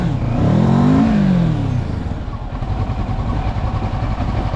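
A motorcycle likened to a Mad Max machine revs loudly up and then down in a rising and falling sweep, then settles into a rough, throbbing idle close by.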